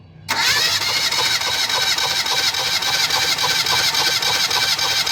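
Engine cranked with a compression gauge fitted to one cylinder, starting abruptly after a short pause into a loud, steady, fast pulsing whir that runs on, close and alone.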